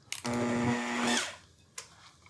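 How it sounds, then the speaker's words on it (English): An electric mixer runs on low speed through gluten-free eggnog snickerdoodle dough with the dry ingredients added, a steady whirring drone of about a second that then winds down, followed by a brief clack. "We're going to mix it slowly so flour doesn't go everywhere."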